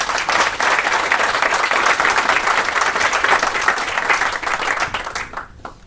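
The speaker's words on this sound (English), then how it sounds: "let's just give a warm round of applause to John Danaher" An audience gives a warm round of applause welcoming John Danaher before an academic talk on automation and utopia, steady dense clapping throughout that thins and fades out at the very end.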